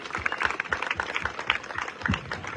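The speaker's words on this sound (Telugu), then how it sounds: "ఒక్కసారి గట్టిగా చప్పట్లు కొట్టి వాళ్ళందరినీ" Audience applause at a stage event honouring a fight master, a steady dense patter of many hands clapping close and fairly loud throughout, with a few stray voices mixed in.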